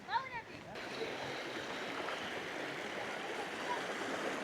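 A stream runs swollen after rain through a hilly farming village, giving a steady, moderate rushing wash of water that sets in after a few brief chirps at the start.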